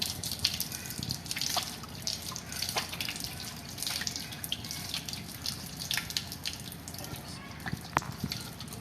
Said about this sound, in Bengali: এখন পা ধুতে হবে আপনার।